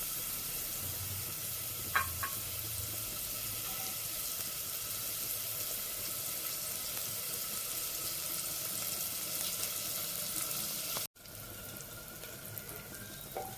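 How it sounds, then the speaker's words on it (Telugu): Onions frying in oil for a ridge gourd and moong dal curry make a soft, constant sizzle throughout, with a brief clink near the start and a sudden cut late on, and no voices. "ఇలా ఆయిల్లో ఉల్లిపాయలను వేగనివ్వాలి."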